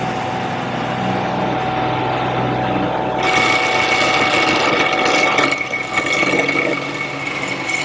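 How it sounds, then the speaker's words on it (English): A wood lathe turns a taper on a harvest table leg blank with a square carbide cutter, giving a steady machine whine with a rougher cutting texture that swells in the middle, close and alone. "I've now changed the triangular cutter to a square carbide cutter, and that'll make quick work of turning the taper"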